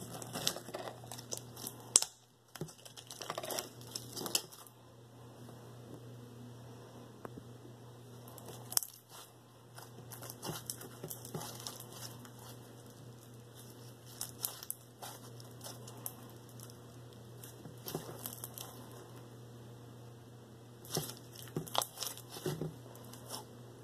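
Fishbowl slime being squished, poked and crinkled up close, giving soft crunchy pops and sticky squelches over a steady low hum, with no talking.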